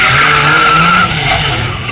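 A motorcycle performs a smoky burnout during a stunt show at a local dealership, its rear tire squealing loudly and continuously against the pavement with a harsh, sustained screech close by.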